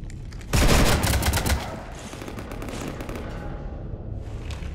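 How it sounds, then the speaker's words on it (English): Rapid automatic gunfire in the Mass Effect 3 Citadel video game rattles loudly for about a second as a ship is shot up, then fades into a sustained noisy rumble. "You want to stop shooting up my ship?"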